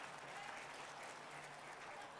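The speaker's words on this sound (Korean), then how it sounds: "12시 안에 끝내겠다니까 박수를 좋아서 치는 거예요." Audience applause at a corporate vision lecture by a company CEO, a brief, continuous burst of crowd clapping mixed with faint murmuring from the room.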